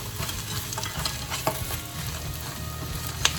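Sausage stirred in a hot pan with brown sugar, a steady sizzle of frying under repeated scraping strokes of the spoon, close and continuous with no talk.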